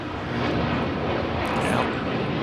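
A Scandinavian Airlines jet takes off at LAX with a loud, steady broadband jet roar that swells slightly across the whole stretch; faint voices sit beneath it.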